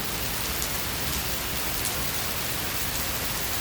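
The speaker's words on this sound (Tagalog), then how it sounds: "sobrang lakas ng ulan" Heavy rain pours down in Sham Shui Po, Hong Kong, in a dense, unbroken hiss, loud and steady with no voices.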